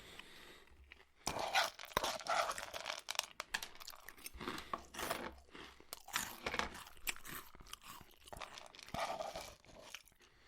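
Crunchy food is bitten and chewed right up close for ASMR, making loud, crisp crunches in irregular bursts with short quiet gaps and soft mouth sounds between bites.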